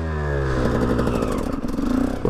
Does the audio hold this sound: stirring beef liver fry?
no